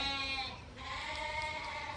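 Sheep and lambs bleating on pasture: several overlapping harmonic bleats carry through the whole two seconds, moderately close, with no talk.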